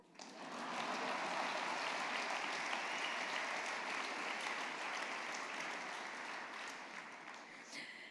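A large audience at the Global Teacher Prize 2018 ceremony claps steadily and loudly for about eight seconds, a dense even roar of hands that holds without a break and tapers slightly at the end.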